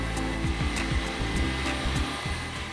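An electric mixer whisks a warm, thickened cake sponge mixture for a chocolate praline cake, giving a steady loud motor whir with a rhythmic knocking beat running underneath, close and uninterrupted.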